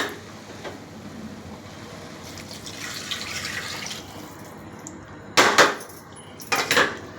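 Water splashes into a pressure cooker holding lentils and broken wheat in two short pours near the end, after a stretch of quiet kitchen background.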